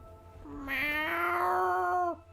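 A cat in a video game lets out one loud, drawn-out yowling meow that rises and then cuts off abruptly, heard alone and up close.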